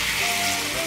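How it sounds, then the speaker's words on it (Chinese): Sweet potato sheets frying in a pan with minced pork and pickled greens, giving a steady close sizzle with no talk. "再把苕皮煎一下"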